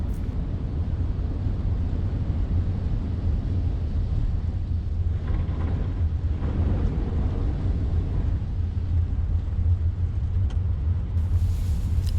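Car driving along flooded country lanes in the rain, heard from inside as a constant low road rumble with wind and water wash, steady and close, without speech.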